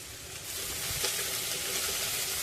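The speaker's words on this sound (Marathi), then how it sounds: "अर्धा चमचा हिंग परतून घ्यायचं आहे हे परतल्यानंतर यामध्ये चिरलेली भेंडी घालायची आहे" Chopped okra fries in a pan with turmeric and asafoetida, giving a steady close sizzle that swells slightly and holds for a couple of seconds, with no voices.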